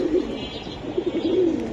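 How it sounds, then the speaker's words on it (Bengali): Platinum hammer pigeons coo close by, soft rolling low coos repeating in short bursts over a faint background hiss. "এটা ভাই প্লাটিনাম হ্যামার কবুতর।"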